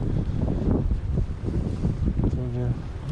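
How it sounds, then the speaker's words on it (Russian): Wind blows and buffets a microphone outdoors in an untidy autumn park with fallen leaves, a steady rough rush close up. A voice speaks briefly near the end. "ветер дует"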